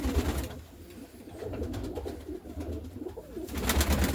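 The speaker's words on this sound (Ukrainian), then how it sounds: "Серый голубочек такой." Grey pigeons coo in soft, low, throaty rolls close by, with repeated calls and wing or shuffling noises in between.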